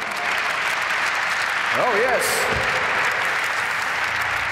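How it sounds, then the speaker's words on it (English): Audience applause at a Ford Focus RS presentation, a continuous loud wash of clapping throughout, with a voice briefly calling out over it. "Ladies and gentlemen, a round of applause for the main man."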